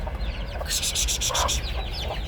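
Hens and chicks clucking and cheeping up close in a farmyard as the chicks are herded back, a series of short repeated clucks and bright peeps over a low background rumble.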